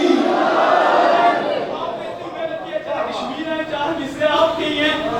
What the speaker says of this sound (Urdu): اور عباس کے لوگ مل کے نعرے حیدری